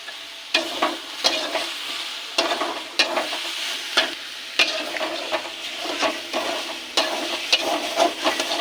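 Ash gourd frying in a pan with a little sugar: a loud, close sizzle broken by repeated scraping stirring strokes at an irregular rhythm, with no talking.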